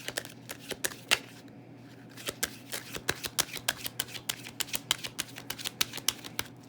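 A deck of tarot cards being shuffled close by, a quick run of crisp riffling flicks and snaps in a steady rhythm, alone and fairly quiet.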